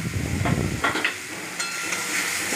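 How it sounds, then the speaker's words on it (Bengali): Spice masala of tomatoes with turmeric and cumin powder is stirred in a pan for palak paneer. A hissing sizzle runs throughout, broken by a few short scraping stirs, with no talk. "একটু নাড়াচাড়া করে নিলাম মশলাটা"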